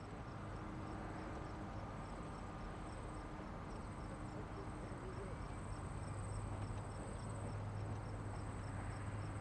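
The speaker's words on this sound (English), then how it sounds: "You might hear an occasional bird chirp or maybe a cricket or a cicada." Crickets chirp faintly in the desert near Las Vegas, a thin repeating trill pulsing steadily over a quiet low rumble of distant background.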